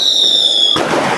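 A firework whistles with a high steady tone, then bursts in a sharp, loud crackling explosion.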